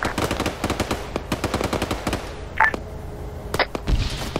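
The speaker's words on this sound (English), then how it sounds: "Here, gunfire" Machine gun fire in the military video game Arma 3, several rapid bursts of sharp cracks at close range, then isolated shots and a brief electronic beep, with no talking.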